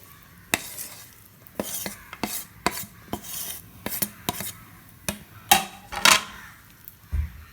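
Dates and dried fruits being stirred in a pan for a Christmas plum cake, with repeated spoon scrapes and clinks against the metal arriving in uneven strokes, close and fairly soft.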